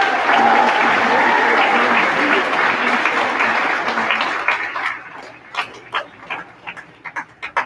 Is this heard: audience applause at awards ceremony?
yes